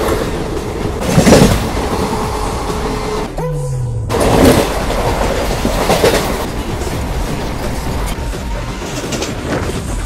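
The Ratnachal Superfast Express rolls along the tracks with a loud, steady rumble and rhythmic clickety-clack of wheels over rail joints, with a brief sharp drop in the noise partway through.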